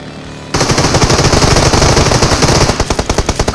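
Automatic weapon fire in the mobile battle royale game PUBG Mobile, a loud rapid burst of close shots in quick rhythmic succession lasting several seconds.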